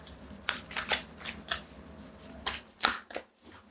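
Tarot cards are shuffled up close in a series of crisp, riffling flicks and soft slaps, arriving in uneven bursts with no talking over them.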